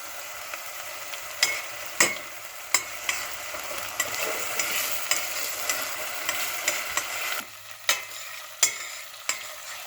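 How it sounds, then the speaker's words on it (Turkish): Grated onions frying in oil in a pan, a continuous soft sizzle broken by sharp scraping clacks as a utensil stirs them at irregular intervals. "Şimdi pişirme işlemi için rendelediğimiz soğanlarımızı bir güzel kavuruyoruz yağla"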